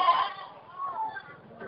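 A goat at a livestock market in Ponorogo, Indonesia, gives a wavering bleat at the start, fairly close, followed by quieter market noise with people talking in the background.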